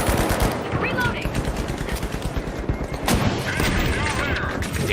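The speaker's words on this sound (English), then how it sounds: "Damage coming in. A nice RPG." RPG rocket blasts and rapid gunfire from The Finals pound through a dense, continuous battle din, with repeated sharp booms and crackling shots rising loudly over one another.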